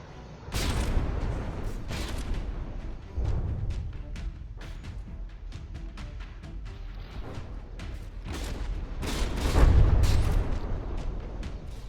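Naval guns firing volleys in a From the Depths battle between warships, with repeated booming shots at irregular intervals over a steady low rumble and a louder burst of fire near the end.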